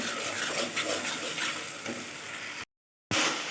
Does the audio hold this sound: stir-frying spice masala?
yes